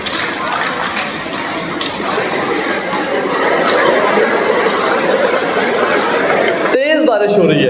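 An audience patters their hands together to imitate rain, a broad, steady hiss-like rustle of many hands filling the room, with scattered chatter and chuckles underneath before it breaks off near the end.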